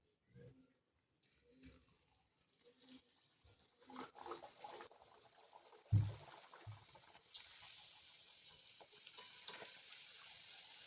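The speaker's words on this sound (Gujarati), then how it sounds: "તો હવે આપણે એમાં પૂરીને તળી લઈશું." Aloo methi masala puris go into hot oil, with quiet handling and clatter first and then a steady sizzling hiss of frying dough building up.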